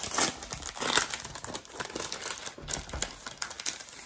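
A cellophane bag crinkles and rustles in uneven bursts close by as a journal pack is opened, without any talking.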